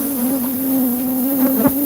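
A swarm of bees hums around exposed comb in a steady, close drone with a strong low buzz and faint overtones, holding level for about two seconds with a brief flare near the end.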